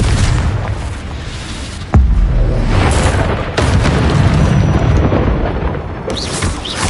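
Confringo blasting spells in the Hogwarts Legacy video game, loud booming explosions with sharp onsets near the two- and three-and-a-half-second marks, followed by rumbling roar and crackle, heard without talk.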